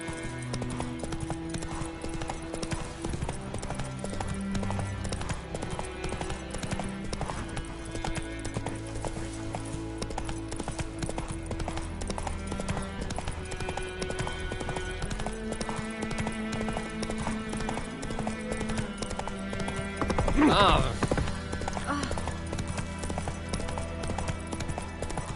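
Horse hooves clip-clopping at a gallop in the video game Witcher 3, a steady rhythmic beat under game music and ambience, with a brief louder burst near the end.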